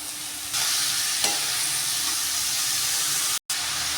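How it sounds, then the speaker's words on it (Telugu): Ridge gourd pieces sizzle in a hot pan as they are stirred, a loud steady frying hiss with occasional utensil scrapes and one brief dropout near the end. "ఈ బీరకాయలు వేసుకొని బీరకాయ పీసెస్ వేసుకొని మంచిగా కలుపుకోవాలి."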